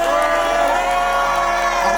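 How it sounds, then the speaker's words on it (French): Wedding guests at a church ceremony shout and cheer for joy right after a prayer, a loud continuous crowd roar of whoops and cries filling the whole moment. "Voilà, poussez des cris de joie."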